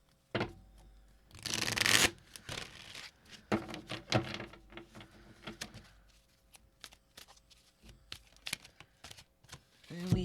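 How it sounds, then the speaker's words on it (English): Soft, close-up riffling and shuffling of a deck of tarot cards comes in several quiet bursts. "I'm going to shuffle these cards one more time."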